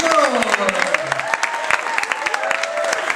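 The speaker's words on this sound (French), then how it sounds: "on peut applaudir Amandine une fois encore" An audience at a slam poetry tournament applauds the poet Amandine, a steady patter of claps running under a voice that talks over it throughout.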